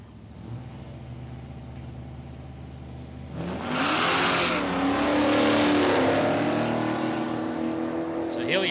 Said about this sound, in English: So Hillier spun the tyres here on the hit of the throttle.